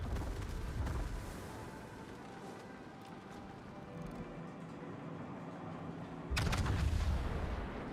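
Battleship guns fire in World of Warships, heard as deep rumbling booms, a muffled blast early on and a heavier, louder salvo near the end over a continuous low game ambience.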